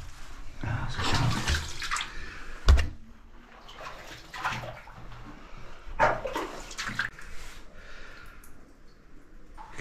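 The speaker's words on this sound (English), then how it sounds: "You can hear something, a waterfall." Water rushing and falling inside the abandoned Cae Coch sulphur mine, a steady wash of noise with a few louder splashy bursts and knocks. It sounds fairly close and continuous, with no talk.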